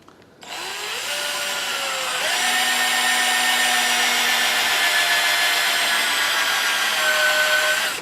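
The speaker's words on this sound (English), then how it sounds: "So I go ahead and drill it." Power drill boring into a wooden box lid in a cabinet-making shop, a steady whining motor that rises in pitch as it bites into the wood and holds there for several seconds.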